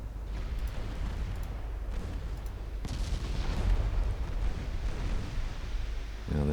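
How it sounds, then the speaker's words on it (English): Torpedo hits on warships in a naval strategy game set in a 1925 Norwegian campaign produce deep rumbling booms over a continuous low roar, with a couple of sharper blasts rising out of the dense battle noise. "There we go, torpedo hits on my ships now."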